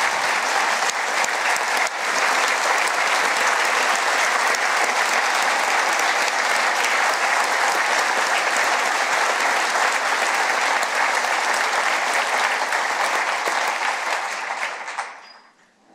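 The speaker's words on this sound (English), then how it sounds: "Please join me in giving Mel a round of applause today." Sustained audience applause in a large hall during a governor's State of the State address, loud and even throughout before fading out at the end.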